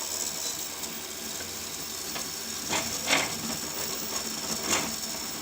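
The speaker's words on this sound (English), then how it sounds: "my orange CraftBot 3D printer from Craft Unique is printing again the large screw circle, but this time it's printed on an orange PLA filament" An orange CraftBot 3D printer from Craft Unique prints a large screw in orange PLA filament, giving a steady mechanical whir with faint clicks and a few brief louder ticks and buzzes from the moving head, close by.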